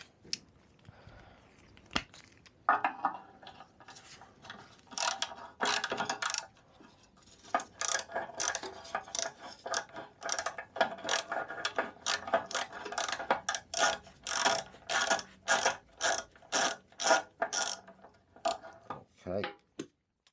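A ratchet loosens a 13 mm bolt on a 1970s Hayter Harrier MK1 lawnmower, with quiet handling at first, then a long run of sharp, evenly spaced close clicks in quick strokes.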